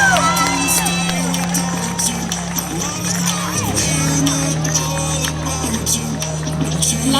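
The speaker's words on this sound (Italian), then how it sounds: "signore e signori, un grande applauso" A large outdoor crowd cheers and shouts continuously at a town palio pageant in Paluzza, Italy, with a steady low hum underneath and scattered whoops rising through the din.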